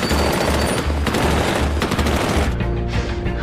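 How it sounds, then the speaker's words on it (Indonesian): An M2 Browning heavy machine gun fires steady rapid bursts at a helicopter, loud and close, with dense repeated reports and booming low thuds that cut off sharply near the end. "si Carlos melakukan hal yang nekat dengan berlari ke arah senjata M2 Browning dan kemudian menembakkannya ke arah helikopter Amy hingga membuat helikopter itu meledak"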